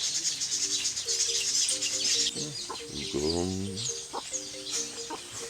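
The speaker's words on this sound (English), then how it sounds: "The voice of the bird." Bird calls in a Nigerian Nollywood movie scene, a series of harmonic chirps and clucking notes repeating over steady background hiss, with a brief voice-like swoop in the middle.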